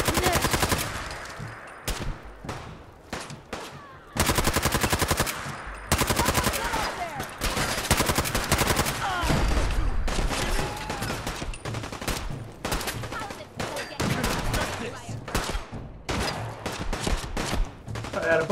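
Gunfire in Fallout 4 rings out in dense bursts of rapid shots and machine-gun fire, loud and close, running nearly throughout with brief gaps of quiet between volleys.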